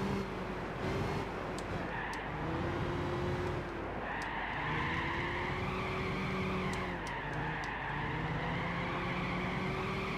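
Race car driving in Gran Turismo 6, a steady high engine whine rising and falling through gear changes, with tire squeal as it corners, continuous and close with no talking.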